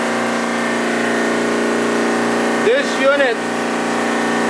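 A commercial air-conditioning chiller with its compressor running, giving a steady tonal hum and drone close up, while someone speaks briefly over it.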